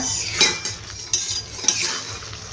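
Pulao masala frying in oil in a pan, with a low sizzle and a few distinct metallic clinks of a spoon against the pan, close and with no speech.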